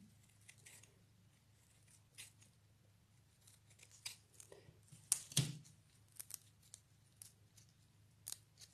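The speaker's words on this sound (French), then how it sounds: "Découpe les pétales." Scissors snip marigold petals in a series of faint, close, sparse clicking cuts, with one sharper, louder snip partway through and a quiet room hum underneath.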